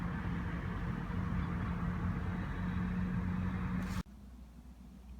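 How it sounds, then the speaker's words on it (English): A refrigerated truck pulling away from a supermarket loading dock early in the morning, its steady engine and refrigeration drone loud and constant before cutting off abruptly, leaving a faint low hum. "the truck just pulled away from the dock"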